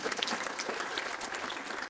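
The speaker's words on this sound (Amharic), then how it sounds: "አጨብጭቡ ለጌታ።" A church congregation claps continuously, giving a dense, steady patter of many hands at moderate distance that lasts the full two seconds before cutting off abruptly.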